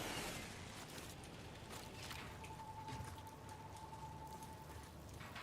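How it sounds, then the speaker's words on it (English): Rain in a video game set on a harvesting colony, a soft steady patter of drops, faint and continuous with no talk over it. "Oh, it's gonna stop raining now."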